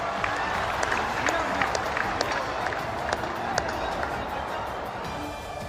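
Dense crowd clapping at a political rally where Prime Minister Narendra Modi launches development projects in Assam, a steady loud wash of many hands sustained throughout with scattered sharper claps and no speech over it.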